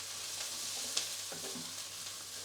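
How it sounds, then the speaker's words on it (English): Vegetables including cabbage sizzle steadily in a stir-fry pan, a continuous hiss with faint scraping as they are moved around, no talk. "Once these are all added to the pan, keep moving the vegetables around."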